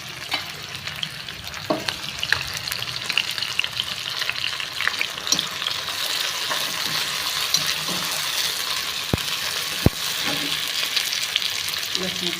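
Onion sautéing in a hot pan for a tur dal usal, a steady close sizzle and crackle of frying with scattered clicks of a spoon stirring against the pan throughout.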